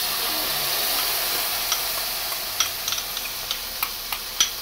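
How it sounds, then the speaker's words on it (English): Clams stir-frying with chili sauce in a hot pan, a soft steady sizzle broken by irregular sharp clicks and scrapes of a utensil stirring, close up and fairly quiet, with no voices. "This is a stir fry, so the cooking has to be fast."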